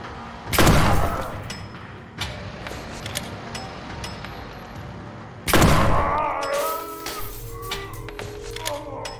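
Two heavy shotgun blasts fired in the dark horror game Tormented Souls, each a loud broadband boom with a decaying tail, the second joined by clattering mechanical clicks as the gun is worked.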